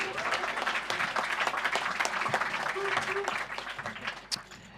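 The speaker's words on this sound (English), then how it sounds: "Big round of applause." Audience applause at a hackathon awards ceremony, steady dense clapping from a crowd lasting several seconds, tapering off near the end with a few voices mixed in.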